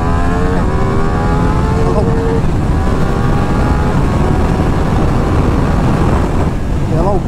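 A Ducati Diavel V4 motorcycle accelerates hard with a loud, continuous engine roar whose pitch climbs and steps through the gears, heard up close on a test ride with strong road and wind noise.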